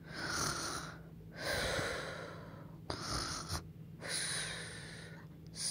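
A storyteller's voice imitates Goldilocks snoring, fast asleep in Baby Bear's bed, with three long, breathy snorting inhales separated by short quiet pauses, close and soft.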